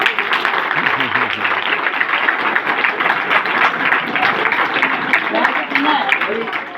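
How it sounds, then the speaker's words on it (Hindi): Secondary school students applaud at a traffic rules awareness program, a sustained dense clapping that fills the hall, mixed with crowd noise and some voices underneath. "फिर तालियों से गड़गड़ा"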